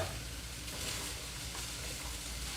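Carrots and other vegetables sizzle in a pan while being stirred, a soft continuous frying hiss with light scraping, fairly faint and without talk.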